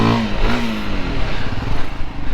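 A 2025 Voge 300 Rally adventure motorcycle engine revs up and down nearby, its mid-pitched drone rising and falling, fairly loud and steady with no talk over it.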